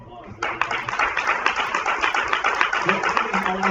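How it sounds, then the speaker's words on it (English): Audience applause at an ISES Orlando chapter meeting, a sudden burst of loud, close, dense clapping that sustains steadily to the end with scattered voices mixed in. "Give them a round of applause."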